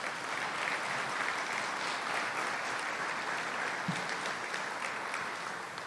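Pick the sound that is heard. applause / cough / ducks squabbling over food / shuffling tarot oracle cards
applause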